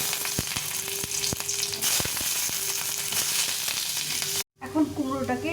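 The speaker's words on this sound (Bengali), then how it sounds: "এখন এই রসুন, কয়েকটা রসুন, কাঁচা লঙ্কা আর পেঁয়াজটা ভেজে নেব।" Garlic cloves, green chillies and onion fry in a pan for a pumpkin bharta, a loud, close crackling sizzle with sharp pops, broken by a brief silence near the end before the frying resumes.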